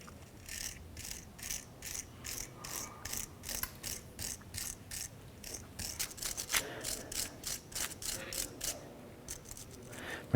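Wire brush scrubbing rust from the threaded section of a rear drum brake part on a 1994-2004 Chevrolet S-10, a steady run of rapid rasping strokes, close and moderately loud with no talk.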